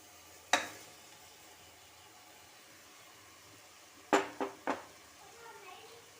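Rice fries in oil with ginger-garlic paste and masala for spinach palak rice, a quiet steady sizzle broken by a sharp utensil knock early on and a quick cluster of stirring clanks near the end.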